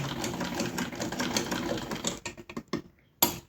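A treadle sewing machine stitches fabric with a rapid, rhythmic mechanical clatter that slows and breaks up into a few separate clicks before stopping, then one last loud clack.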